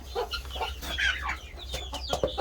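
Backyard chickens cluck in a series of short, close calls with a few sharper squawks, scattered irregularly over quiet farmyard background.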